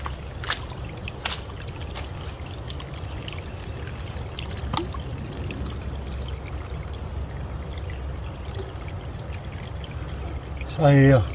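Water from a natural spring in Tupi-Guarani indigenous lands runs in a steady, continuous trickle and pour, close by, with a few soft knocks and a brief voice near the end.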